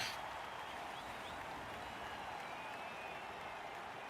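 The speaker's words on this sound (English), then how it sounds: "Cheering fans." Cheering crowd of fans in the Blood Bowl 3 fantasy football video game, a steady faint wash of roaring and applause at constant level throughout, with no talk over it.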